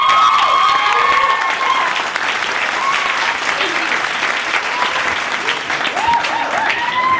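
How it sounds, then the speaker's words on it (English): An audience at a live poetry event claps loudly and continuously for a poet, dense applause with scattered whoops and cheers throughout. "give her another round of applause"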